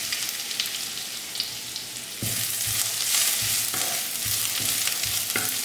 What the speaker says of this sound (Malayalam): ഇനി ബാക്കിയുള്ള എണ്ണയിലോട്ട് കുറേശ്ശായിട്ട് കറിവേപ്പില ചേർത്തിട്ട് ഫ്രൈ ചെയ്യാം.